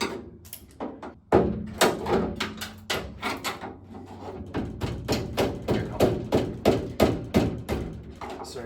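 Repeated knocks and thumps ring out as a hammer strikes a 1973–1979 Ford truck door part during teardown, a dense run of close, uneven blows.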